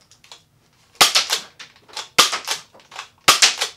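A toy Nerf-style dart blaster slam firing with no trigger, giving three loud sharp pops each followed by quick rattling mechanical clacks, close and with no one talking.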